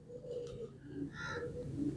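Pigeons at a large pigeon loft in Multan give soft, low cooing calls, faint and a little distant against a muffled background.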